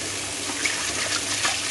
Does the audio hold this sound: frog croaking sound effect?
no